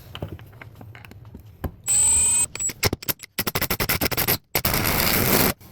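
A power drill drives trim screws into hardwood flooring in several close bursts: one sustained whine with a rising pitch, then a rapid string of short stuttering pulses and a final longer run, separated by quiet gaps and light handling clicks.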